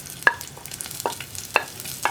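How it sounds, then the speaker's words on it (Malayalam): Garlic and onion sautéing in hot coconut oil for a Kerala curry, a faint low sizzle broken by four sharp spoon taps and scrapes against the pan. "ഇത്രയും ചേർത്തിട്ട് നന്നായിട്ടൊന്ന് വഴറ്റിയെടുക്കുക"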